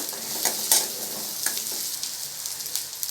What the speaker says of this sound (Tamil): வெங்காயத்தை நல்லா வதக்கி விட்டுடுறேன்